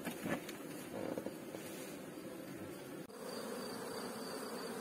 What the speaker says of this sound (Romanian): Albina lucră,